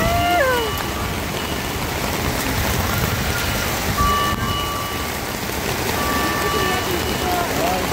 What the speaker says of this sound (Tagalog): Ayan na po ang ulan. Literal na ulan.